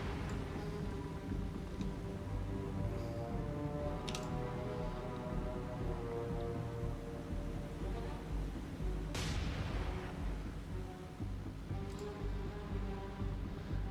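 Dull, booming explosions and rattling gunfire from a naval combat game featuring a PT boat, layered over a steady engine and water rumble, with a few sharp bursts standing out through the continuous noise.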